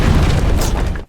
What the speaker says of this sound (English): Luffy literally brought the house down on Arlong with one hell of a bombardment